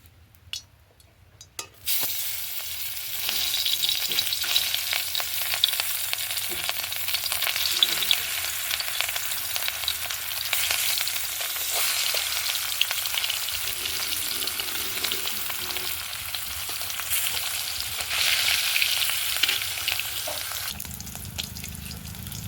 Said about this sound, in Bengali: তেল গরম হয়ে গেছে, এবার মাছ দেব।